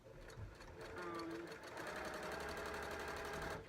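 A sewing machine runs steadily through a quilting session, its busy motor whir and needle chatter continuous and close for the whole stretch, with faint voice-like sounds in the background.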